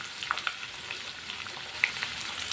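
Chopped onions fry in hot oil in a pan, a continuous even sizzle with a few faint pops and crackles, close and steady.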